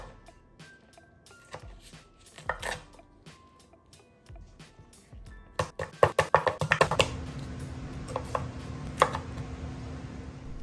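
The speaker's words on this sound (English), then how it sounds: "I grabbed a sharp knife and separated the drums from the flats" A sharp knife cuts through raw chicken wings on a board, separating drums from flats, with scattered sharp clicks and taps, then a denser run of chopping knocks and thuds toward the end over a low steady background hum.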